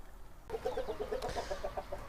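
Chickens cluck in a backyard coop, a steady run of short rhythmic clucks close by after a brief quiet start, with soft rustling behind them.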